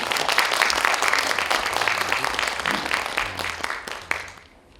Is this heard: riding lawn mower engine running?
no